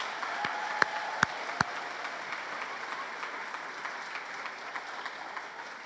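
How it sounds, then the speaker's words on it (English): An audience applauds at a school Grade R children's celebration in 2021, a steady wash of clapping from a moderately distant crowd, with a few sharp individual claps standing out near the start. "I think they deserve another round of applause there."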